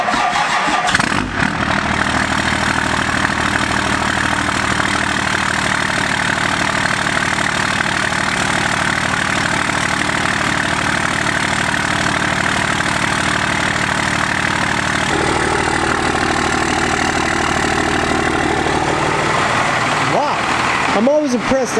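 A First Gen Cummins 12-valve diesel truck, left sitting for months, cranks and fires, then settles into a loud, steady clattering idle close by that runs for about twenty seconds.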